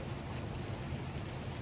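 Steady rain falling outdoors in cool weather, a dense even hiss with a low rumble underneath, continuous and moderately soft with no voices.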